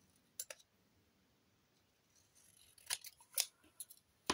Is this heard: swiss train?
no